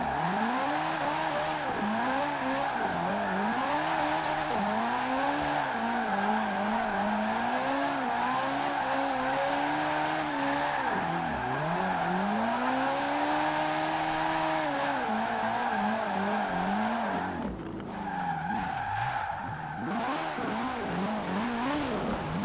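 A GT 4586 (GT86) fitted with a 2JZ engine in Forza Horizon 4 screams at high revs with continuous tire squeal, held loud and steady with brief shifts and dips, no talking.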